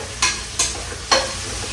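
Onions sizzle in a pan as three quick stirring strokes scrape through them at a steady rhythm, close and fairly loud over a soft background hiss.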